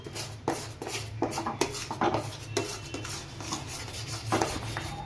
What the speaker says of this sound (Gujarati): આવી રીતે તવીથાથી સતત હલાવતું રહેવાનું, બાકી તળિયે ચોંટી જાય।